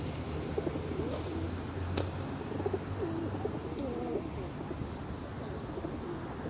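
A black tumbler pigeon coos softly on a balcony, a few low, faint murmuring calls over steady outdoor background noise, with occasional brief chirps.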